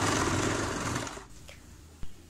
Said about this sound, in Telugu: ఇప్పుడు మనం బాటమ్ సైడ్ ఇలా ఫోల్డ్ చేసుకుని ఒక స్టిచ్ వేసుకుందాం